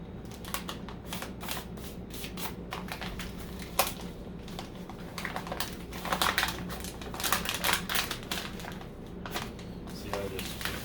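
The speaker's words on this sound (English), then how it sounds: "You really want to go ahead and tape this down just so it stays tight." Adhesive tape being pulled and pressed down while wrapping teriyaki flank steaks, heard as a run of crackling, tearing rasps and taps that swell and fade across the clip, close by, with a steady low hum beneath.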